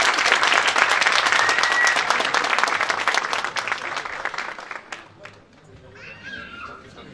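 Applause from a concert audience welcoming a folk poet onto the stage, dense and loud at first, then thinning out and fading over the last couple of seconds as scattered voices carry on.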